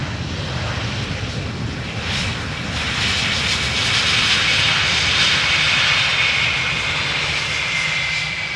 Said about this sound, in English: we have a Ryanair landing on runway 27 right now